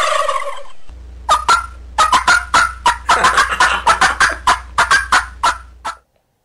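Turkey gobbling, presented as coming from inside a turkey egg on a farm: a rapid series of loud, close gobbles in quick bursts over a low steady hum, ending abruptly.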